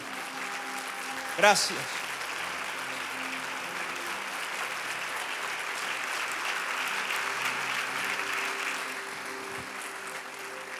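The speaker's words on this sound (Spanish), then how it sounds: "Póngase de pie, den un aplauso fuerte al Señor." A church congregation stands and claps loudly for the Lord, producing steady, sustained applause that fills the room for several seconds, with a voice briefly speaking over it.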